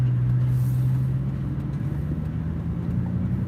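Road traffic rumbles past in a steady low drone as cars drive by nearby, with no voices over it.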